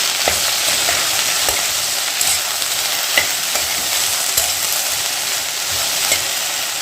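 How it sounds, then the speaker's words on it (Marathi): Sliced okra with turmeric dry-frying in a pan over medium heat for a Jain bhendi bhaji, with a steady close sizzle and repeated scraping, stirring knocks throughout. "हळद भेंडी भाजून घेऊया"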